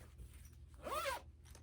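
A quick zip on a fabric cross-stitch project bag with a red zipper: one short, close rasp lasting about a third of a second against a quiet background.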